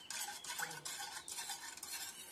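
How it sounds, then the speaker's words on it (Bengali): Salted water with garlic paste stirred in a pot, a soft steady swishing and scraping that runs continuously at a quiet level with no voices. "নুনটা যাতে মিক্স হয়ে যায় সেজন্য আমি জলটা একটুখানি নাড়তে থাকবো"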